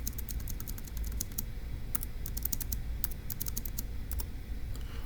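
Keys on a computer keyboard tapped in quick, irregular bursts of crisp clicks, faint but close, with a low steady background hum and no speech.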